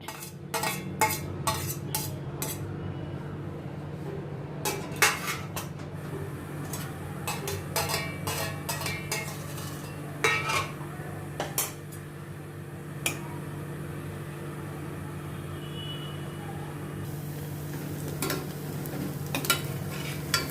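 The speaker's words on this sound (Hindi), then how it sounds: "इसमें मैं ये कटा हुआ प्याज डालती हूँ। इसको अभी मैं थोड़ा गोल्डन ब्राउन होने तक भूनूंगी।" Chopped onion fries and sizzles steadily in a pan, with repeated sharp scrapes and clinks of a spoon stirring against the metal as it cooks toward golden brown.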